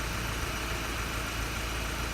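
A 1992 Honda Accord engine idles steadily during ignition timing adjustment, a dense continuous rumble heard close with only slight shifts in its rhythm.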